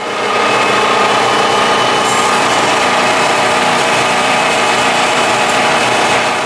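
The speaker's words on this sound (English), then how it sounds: "They also use the belt grinder to round the back of the knife." A belt grinder works steadily on a HADO kitchen knife, rounding the back of the blade, giving a continuous loud abrasive hiss and whine that holds level for the whole stretch with no talk over it.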